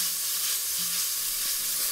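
Beef sizzles and hisses in a hot pan with shiitake mushrooms, garlic and green onion as it is stir-fried, a loud, dense frying noise throughout with faint stirring scrapes and no talk.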